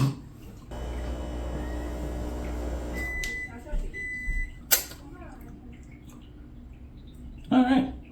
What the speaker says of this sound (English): Now we're gonna knock that in the microwave for about 10 seconds